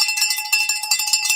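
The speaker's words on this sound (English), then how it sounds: "Let's get the bell out for that one." A handheld bell clangs rapidly and loudly in celebration of a new half marathon personal best, its bright metallic strokes repeating in a fast, steady rhythm with no talking.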